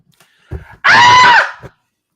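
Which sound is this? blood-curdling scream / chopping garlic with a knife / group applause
blood-curdling scream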